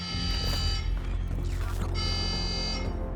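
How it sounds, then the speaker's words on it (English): An alarm goes off in the video game Call of Duty Black Ops 6, a loud buzzing, harmonic-rich tone sounding in pulses over a dense background of game noise, without speech. "Case, get to the antechamber. Trip the alarm."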